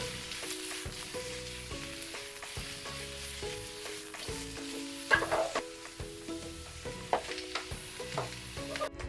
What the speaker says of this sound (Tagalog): I-fry lang natin yan ng mga 3 minutes sa high flame.